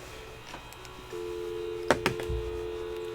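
Telephone in the Nancy Drew game Message in a Haunted Mansion, a steady tone with two sharp clicks, quiet and close, with no talk.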